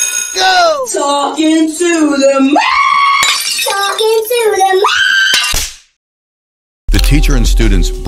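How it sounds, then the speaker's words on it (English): Loud, high-pitched screaming with sliding pitch from several students, then a sudden silence before a harsh, ringing crash of glass windows breaking. "Students broke the glass windows by screaming."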